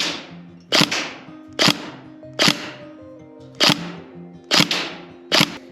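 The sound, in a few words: airsoft gun firing 0.2 gram 6mm BBs without nozzle attachment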